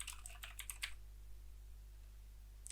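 Quick bursts of keystrokes on a computer keyboard, close and fairly soft, as a game name is entered into a search box; a brief flurry then quiet, with one last tap near the end.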